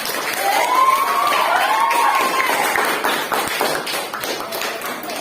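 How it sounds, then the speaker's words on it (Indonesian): A classroom of students applauds during a teaching performance assessment at an Indonesian school, with loud, sustained, dense clapping close by and children's voices calling out over it. "Tepuk tangan untuk kita semua"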